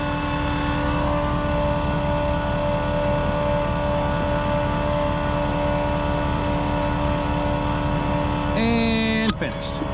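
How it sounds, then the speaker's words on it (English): A small concrete pump runs steadily during a footer pour for an ICF build, a loud continuous engine drone with strong harmonic hum throughout, ending in a brief sharp clunk and a shift in tone near the end. "That little pump gets the job done right there"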